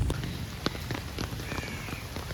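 Heavy monsoon rain pours down around a flooded house and yard, a dense, steady patter on surfaces with scattered louder drops, close and continuous with no talking.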